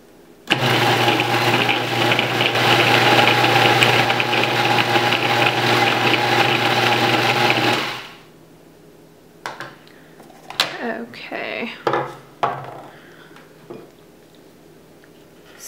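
A food processor whirs loudly and steadily for several seconds while blending mocha coconut butter, then cuts off, leaving scattered scraping and clinking of a spatula against the bowl.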